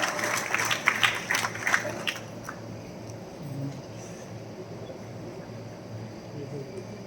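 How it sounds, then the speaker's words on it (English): Audience applause at a District 318 A cabinet installation ceremony, a burst of clapping for about two seconds that fades into a low room murmur. "A round of applause for"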